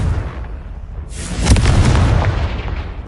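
A Confringo fire spell explodes in the video game Hogwarts Legacy: a sudden loud boom lands about a second in, then a rumbling, crackling tail fades slowly.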